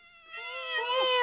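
A pet cat meows in one long, rising, drawn-out plaintive call that starts soft, grows louder and turns more strained toward the end, heard close and alone.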